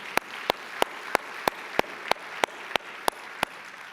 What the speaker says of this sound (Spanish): Dale un fuerte aplauso, dáselo fuerte.